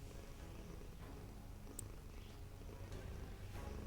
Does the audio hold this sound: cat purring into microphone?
yes